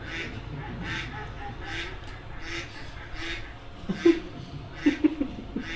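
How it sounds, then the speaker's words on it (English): A small duck honks in the open, several short honking calls near the end, loud and close over a steady rhythmic background hum and faint ambient noise. "the honking noise of a happy little duck with nothing more to worry about"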